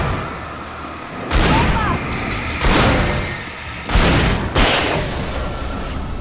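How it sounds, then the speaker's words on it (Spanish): Bomb blasts in the video game Alan Wake, a series of loud broadband booms with rumbling tails that arrive in bursts roughly every one to two seconds over a noisy game backdrop. "¡Bomba!"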